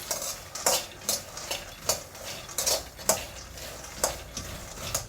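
Peanuts are dry-roasted in a kadai while a metal spoon stirs them, giving a series of sharp scraping clatters roughly every half second over a faint background rattle.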